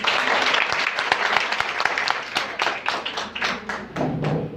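Audience applause at a women empowerment closing ceremony, a fairly loud burst of clapping with scattered individual claps standing out, tapering slightly toward the end as a voice begins speaking.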